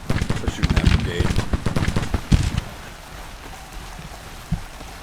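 Massed musket fire in Grand Tactician: The Civil War, dense crackling volleys rattling for a few seconds then thinning to scattered distant shots over a steady battlefield hiss.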